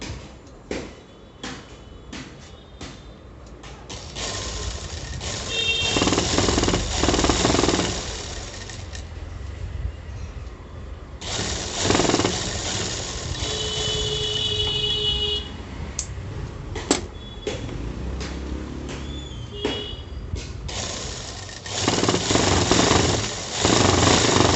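A sewing machine stitches the side seams of an A-line palazzo, running in bursts of loud, steady whirring with short pauses and small clicks between runs, close to the machine.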